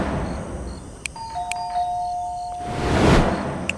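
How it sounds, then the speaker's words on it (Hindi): A doorbell chimes with sustained electronic tones over a hiss, followed by a swelling rush of noise. "डोरबेल बजाई थी।"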